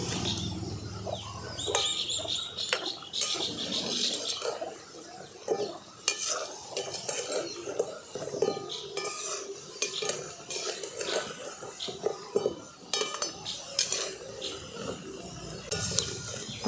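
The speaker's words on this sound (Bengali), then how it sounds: "দেখুন সমস্ত মিষ্টিগুলোকে আমি বেশ ভালো করে লাল লাল করে ভেজে নিয়েছি" Traditional Bengali village sweets frying in a pan, with a utensil repeatedly scraping and clinking against the metal over a continuous sizzle, close and busy throughout, with no voices.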